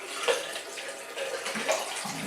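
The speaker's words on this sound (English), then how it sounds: "So now what we're going to do is we're going to rinse the hands off." Hands are rinsed gently under a running tap at a sink, with a steady broadband water rush and soft splashing shifts as the hands move through the stream, close and moderately quiet, with no talking.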